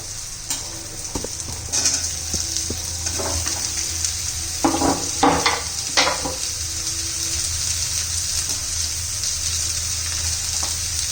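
Raw papaya pieces frying with onions in a pan, a constant close sizzle with occasional spatula scrapes and knocks as the pieces are stirred.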